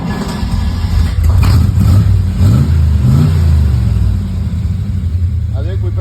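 A 1959 Chevrolet Impala V8, revived after sitting for 50 years, turns over and catches, then revs in a few rising and falling surges before settling, loud and close with people talking over it.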